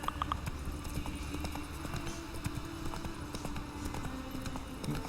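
Horse hooves clip-clop steadily in The Witcher 3: Wild Hunt, a brisk repeating rhythm of hoof strikes over a busy game soundscape, fairly close and continuous.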